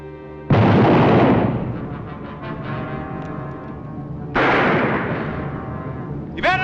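Two heavy gunshots boom in a Western shootout between a pistol and a shotgun, each a loud close blast with a long rolling echo that fades slowly, spaced about four seconds apart, with no talk between them.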